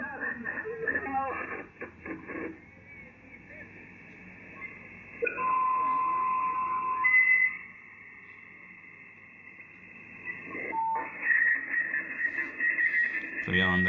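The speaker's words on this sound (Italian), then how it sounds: "Su un apparecchio HF, Roger Beep" Radio transmissions on the 27 MHz CB band crackle with bursts of talk in Italian, broken by short, very high roger beeps and tones at the end of each transmission over band-limited static.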